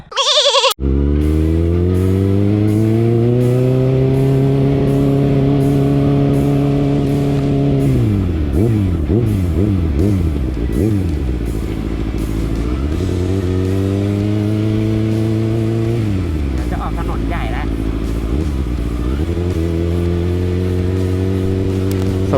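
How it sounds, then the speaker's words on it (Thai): Kawasaki ZX6R 2019 sport motorcycle engine revving hard on a test ride, with loud sustained rising and falling pitch sweeps, rapid blips around mid-clip and repeated climbs through the revs, close and continuous without talk. "ก็วันนี้ก็เรามาเทสทดลองการขับขี่ตัว ZX6R นะครับผม"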